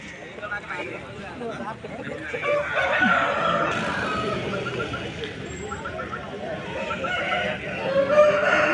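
Roosters crow and hens cluck repeatedly at a poultry market in Vijayawada during rain, amid a busy mix of people talking nearby, the bird calls rising over the crowd noise.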